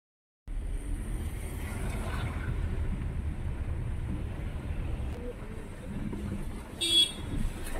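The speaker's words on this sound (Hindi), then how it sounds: "ट्रैफिक प्लस बारिश" Rainy street traffic with a low rumble of vehicles and wind buffeting the microphone, punctuated near the end by a short, sharp honk of a horn close by.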